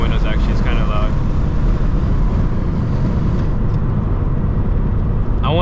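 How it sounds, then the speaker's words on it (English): A turbocharged Subaru BRZ engine drones loudly from inside the cabin while driving, a steady rumbling roar mixed with road and wind noise, with brief whining chirps near the start and end. "It's kind of rowdy. That's what happens when you slap in a turbo."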